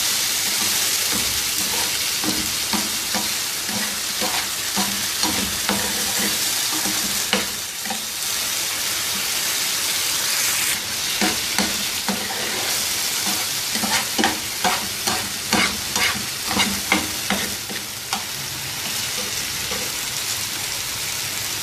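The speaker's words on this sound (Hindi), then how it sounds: "हल्का सा सौते कर लेंगे" Chicken pieces with ginger garlic paste lightly sautéed and stirred on a hot tawa for Lahori-style smoky tawa chicken, a steady loud sizzle broken by repeated scraping strokes of the spatula, with no voices.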